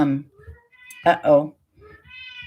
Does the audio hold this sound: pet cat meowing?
yes